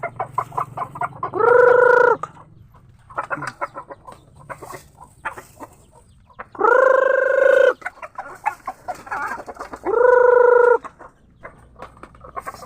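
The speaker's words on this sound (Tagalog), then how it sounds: "Ayan, magpapakain tayo ng ating mga manok. Ito na lang yung mga manok ko." Chickens cluck and squawk nearby, with three loud drawn-out calls standing out against a busy background of clucking.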